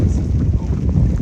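Wind buffets unshielded camera microphones on a boat during stormy, rainy weather while fishing for hogs, a loud, rumbling low roar that fills the whole brief moment.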